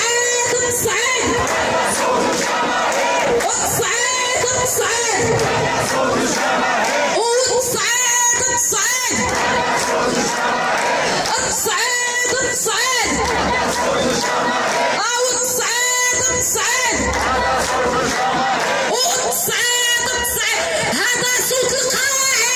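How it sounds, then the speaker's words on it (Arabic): A large crowd of striking workers at a union rally in Meknes chants slogans in Arabic, loud rhythmic call-and-response bursts of shouting voices repeating in waves over a constant roar. "هذا صوت الجماهير"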